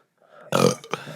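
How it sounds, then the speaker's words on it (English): A loud, close burp bursts out after a brief quiet breath, followed by a shorter second gulping belch, heard alone without talk. "Your burps have been pretty weak."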